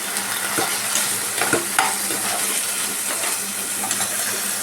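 Soaked Gobindobhog rice tipped into a pot for Bengali phena bhaat, giving a steady hiss and sizzle with scattered grainy patters and light stirring scrapes, close and continuous with no talking.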